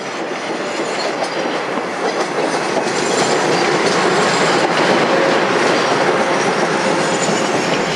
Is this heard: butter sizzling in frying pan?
no